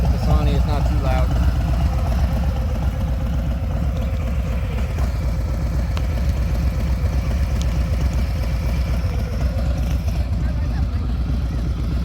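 A 2019 Harley-Davidson Fat Bob Softail 114 with Bassani exhaust idles with a loud, steady low rumble and a lumpy beat throughout, close by, with a voice talking over it at the start.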